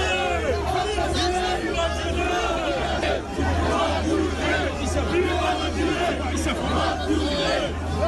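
A dense crowd mobs President Emmanuel Macron during a walkabout, with loud overlapping shouts, cheers and calls swelling and falling under constant close chatter and babble.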